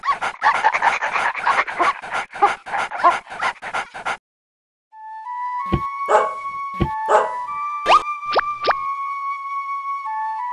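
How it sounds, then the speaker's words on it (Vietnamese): A small dog in an animated folk-tale film pants in quick rhythmic breaths, falls silent briefly, then lets out a series of high whimpers and short yips, close and clear. "Mày trả ơn cho ta đúng không chú chó nhỏ?"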